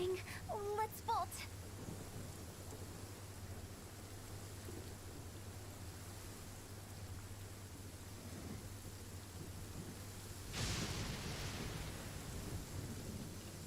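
Thunder rumbles over steady rain in the video game Genshin Impact, with a low hum and brief tones near the start and a sharper crack of thunder later on.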